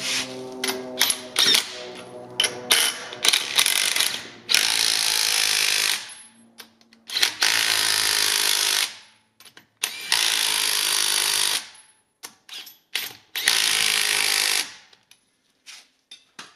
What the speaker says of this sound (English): That little impact gun doesn't have a whole ton of torque.